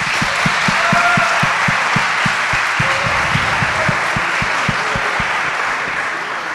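A debate audience applauds loudly and continuously, with a steady rhythmic thumping pulse running beneath the broad wash of clapping.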